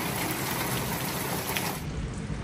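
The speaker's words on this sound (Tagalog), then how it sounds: "Napakalakas ng ulan mga guys." Heavy rain pours during typhoon flooding in Hagonoy, a dense, loud, continuous hiss of water with no pauses, close and enveloping.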